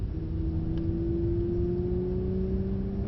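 A Mercedes road car engine holds a steady, loud drone with a slowly rising pitch, a continuous rev building gently over a few seconds with no talk.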